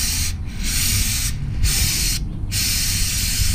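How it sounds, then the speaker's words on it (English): An aerosol of Maxima chain cleaner hisses onto a motorcycle chain in long, steady bursts, broken by three short pauses. The spray is close and loud. "So I'm gonna spray the Maximo Racing Oil, the cleanup chain cleaner."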